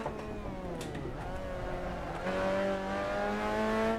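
Race car engine in a racing video game, revving with harmonic tones that sweep as it shifts down to second gear, then rising again at steady, loud volume on track.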